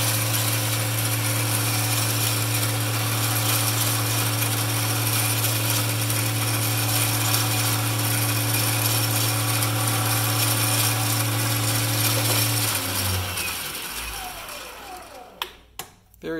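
An MX-210V 8x16 metal lathe cuts aluminum with a loud, steady motor whine and hum that holds evenly, then winds down and stops near the end, leaving a few clanks.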